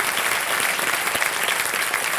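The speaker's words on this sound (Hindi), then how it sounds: "एक बार फिर जोरदार तालियां हो जाए इनके लिए।" Loud, sustained audience applause on a Hindi television quiz show studio, a dense steady clatter of many hands lasting the whole stretch with no talk over it.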